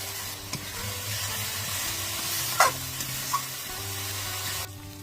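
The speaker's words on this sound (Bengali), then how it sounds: "সামান্য জল দিয়ে মশলাটা ভালো করে কষিয়ে নেব।" Spice paste of chilli, cumin and coriander powder with a splash of water sizzling in a kadai while being stirred for chicken, a steady soft frying hiss with a few faint scrapes of the spoon, close and alone.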